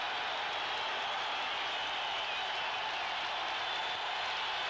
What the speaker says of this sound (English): here's where the crowd comes into play